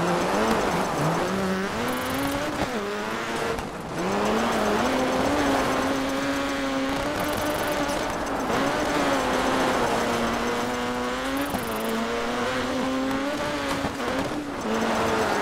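Rally car in the video game DiRT 3, engine revving hard through repeated gear changes with rising and falling pitch, tires squealing and scrabbling, loud and continuous with no talk.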